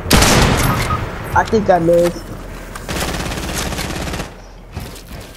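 Gunshots in a trio-mode shooter game, a burst of sharp shots at the start followed by scattered fire, loud and close, with a voice speaking over part of it.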